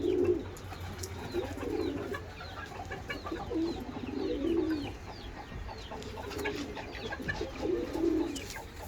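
Pet pigeons or doves in coops at a bird keeper's aviary in Bursa coo in repeated low rolling phrases, several birds near and farther off, with light rustling and background noise and no speech.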